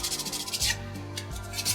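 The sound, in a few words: sanding rough edges of a wooden model kit with sandpaper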